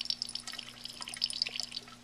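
Water pours through a glass burette with its stopcock left open and falls in quick, irregular drips and trickles, close and distinct. A steady low electrical hum runs underneath for two seconds.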